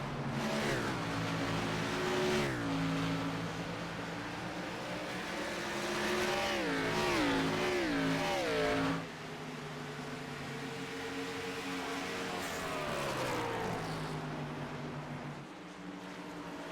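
Several race cars circle the Phoenix oval in the iRacing sim, their engines droning and rising and falling in pitch as they pass, loud and continuous with no talk.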